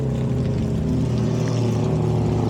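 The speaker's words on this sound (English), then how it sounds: "Look, the motorcycle." A motorcycle engine drones steadily at mid distance, a continuous rumbling hum on a rainy day in northern New Mexico.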